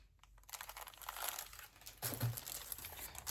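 A big paper envelope full of stickers crinkles and rustles as it is handled, with bursts of crackling up close and a louder crumple partway through.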